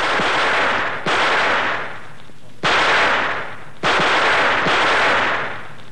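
Gunfire on a military college range in the British era as cadets hold weekly weapon training: four loud, sharp reports spaced about a second apart, each followed by a long rolling echo.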